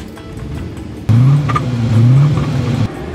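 A 1984 Aston Martin Lagonda engine cranks and catches at once, settling into a loud, close idle with a low steady drone that rises slightly before cutting off.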